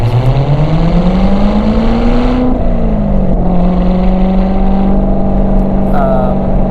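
A manual-transmission Corvette C7 Z06 driving, its engine loud and close as the revs climb, drop sharply at a shift, then hold steady under load.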